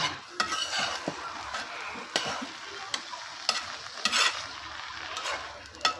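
Leafy greens (shak bhaji) frying in a pan over a clay wood-fired stove, a steady soft sizzle broken by sharp scraping stirs and occasional spatula clinks, close and alone without talk.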